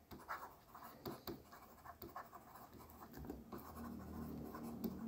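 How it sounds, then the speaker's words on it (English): A pen scratching steadily across paper while an accounting figure is written down, a continuous close scraping texture with small rhythmic strokes over a faint hum. "we can just write this amount down under the heading of return checks"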